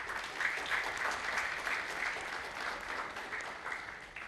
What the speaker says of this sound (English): let's give all the parents a round of applause for being here